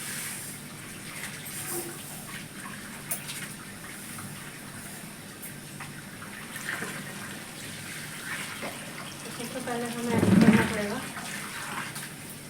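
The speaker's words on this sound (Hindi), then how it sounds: "ये ट्वेल का पानी आता है सीधा। अच्छा प्रेशर है" Steady rushing water from a tube well pours continuously under good pressure, under faint background noise, with a brief louder swell near the end.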